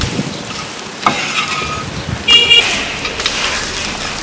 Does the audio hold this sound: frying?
yes